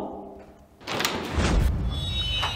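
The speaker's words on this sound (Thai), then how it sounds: "เปิดประตู" A door is opened with a thud in a Thai short drama, followed by a sustained noisy rush of movement and commotion with no clear speech.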